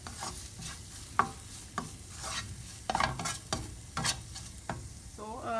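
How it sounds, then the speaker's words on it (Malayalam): Spice powders, among them ground cumin, sauté for paneer masala in a pan with a continuous sizzle, while a spoon scrapes and stirs in quick, uneven strokes close by. No one speaks. "ഇതെല്ലാം കൂടി ഇട്ടിട്ടൊന്ന് നന്നായിട്ടൊന്ന് വഴറ്റണം"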